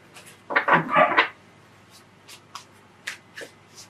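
Oversized tarot cards are shuffled by hand in a few dense riffling bursts up close, followed by lighter scattered card slaps and taps in a quiet room, with no speech.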